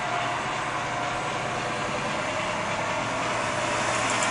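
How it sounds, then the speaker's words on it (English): A steady, loud rumble of a heavy vehicle engine fills the whole stretch, a truck droning close by without pause. "Here comes another truck."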